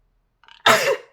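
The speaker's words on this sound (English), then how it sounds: "I feel like there is a deceased loved one here since I'm sneezing." A single person sneezes once, close and loud, a short sharp burst preceded by a few soft catching breaths, then silence.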